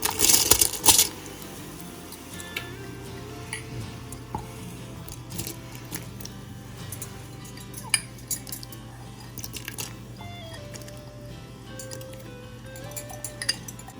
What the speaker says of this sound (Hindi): अब मैं इसमें चावल डालूंगी